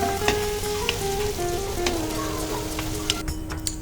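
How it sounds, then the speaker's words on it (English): Potatoes frying in oil with masala for Bengali macher jhol, a steady close sizzle with soft stirring scrapes and occasional pops, no talking. "And then in this we will put the potatoes"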